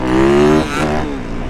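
A dirt bike engine screams at high revs close by in a lot, dropping sharply then building again in a short burst, loud and alone.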